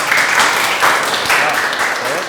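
Children clap together in a burst of brisk, dense applause that swells and fades in waves over a couple of seconds, with young voices mingling underneath.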